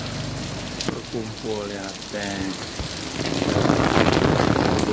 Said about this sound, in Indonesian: Hujan di Keranggan.